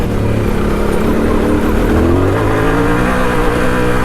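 A big-bore dual sport motorcycle, a Yamaha Tenere 700 or KTM 701, ridden hard off road, its engine droning loud and steady with rising revs and wind rush throughout.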